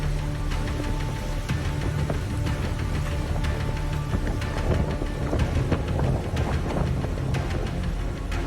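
Storm over Miami with a continuous heavy roar of rain and wind and deep rumbling thunder, loud and dense throughout with no clear pauses.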